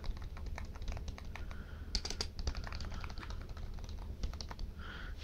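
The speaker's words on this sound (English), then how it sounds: "Keys, they don't feel too bad. They don't have too much travel." Keys on a Microsoft All-in-One Media Keyboard being typed on at close range, a steady run of quick light clicks with a few louder taps, heard alone without talk.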